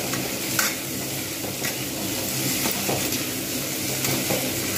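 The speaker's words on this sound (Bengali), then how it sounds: "আলুটা ভালোভাবে পেঁয়াজের সঙ্গে ভেজে নিচ্ছি।" Potatoes fry with onions in a pan for kakrol chingri, a steady close sizzle broken by repeated scraping strokes of a spatula stirring the mix, with no talk.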